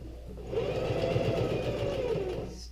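Sewing machine running a straight stitch to sew a patch over a scuffed area on jeans, a steady close whirring mechanical hum with fast needle clatter lasting about two seconds before stopping, no talking.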